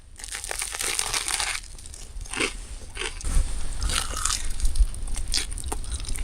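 Close, crisp crunching bites and chewing of food topped with marinara sauce, eaten outdoors on a bitter -35 night, with several distinct crackly bites followed by steady mastication.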